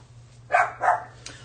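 A dog barks twice outdoors at a distance, two short separate barks of moderate loudness heard alone over a low steady hum.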